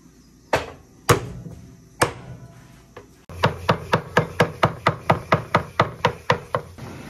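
Knife chopping food on a board in a home kitchen: a few slow separate strikes, then a steady run of about fourteen even, loud, close chops with no talking.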